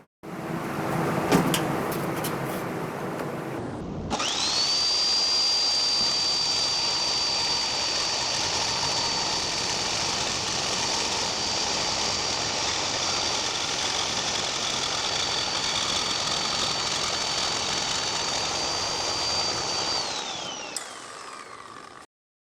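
A power tool blade whines steadily and loudly while cutting out the TGV plates on a Subaru intake near the injectors, a sustained high-pitched drone for about sixteen seconds after some preliminary clatter, then stopping abruptly.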